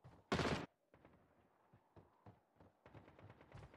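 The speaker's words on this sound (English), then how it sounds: "Is that you shooting my love?" Gunfire in a Call of Duty Mobile match: one loud, dense burst of automatic fire, followed by a string of quieter, sharper shots and short volleys spaced irregularly.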